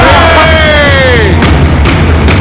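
Ship cannons in Assassin's Creed Black Flag boom in a loud, close volley, a couple of heavy blasts over a dense roar of battle noise, with a descending whistling tone early on.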